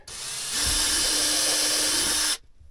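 A power drill bores into a Land Rover LR4 dash panel, giving one sustained, loud, high whine that rises in pitch partway and then cuts off abruptly.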